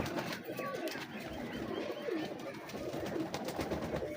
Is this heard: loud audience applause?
no